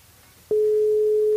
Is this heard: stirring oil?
no